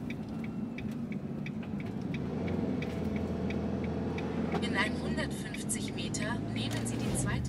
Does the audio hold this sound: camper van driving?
yes